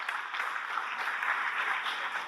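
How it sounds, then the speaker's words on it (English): Audience applause at a university job fair, greeting an alumna: steady, moderate clapping from a crowd with no voices, even in level throughout. "Can we have a round of applause for our alumni?"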